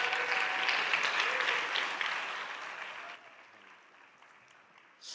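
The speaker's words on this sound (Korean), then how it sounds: "박수로 맞이해 주십시오." An audience claps to welcome a speaker at a Christian teachers' conference, a dense, full wash of applause that holds steady and then thins out and fades toward the end.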